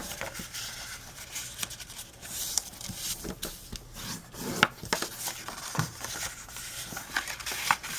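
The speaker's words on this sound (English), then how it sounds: "I'm just going to fold up my score lines" Paper folded and creased along score lines for a full-size Hershey candy bar wrapper, a close, soft run of rubbing and crackling with scattered small taps, no talking.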